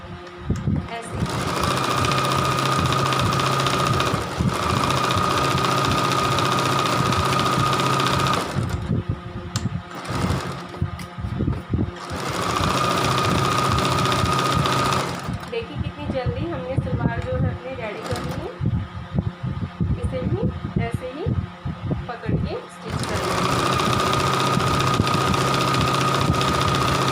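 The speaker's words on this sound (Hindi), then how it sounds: "इसे भी हम उसी प्रकार से स्टिच करेंगे" An electric sewing machine stitches a salwar in steady bursts of running hum, pausing between passes while a person talks in the gaps.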